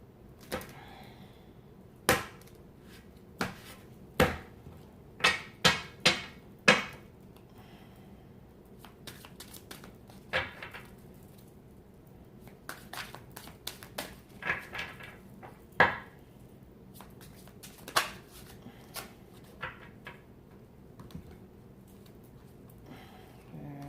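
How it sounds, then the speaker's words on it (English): A tarot card deck being cut and shuffled nearby, with sharp scattered clicks and soft riffling bursts at an irregular pace against a quiet background. "So I'm going to cut the deck."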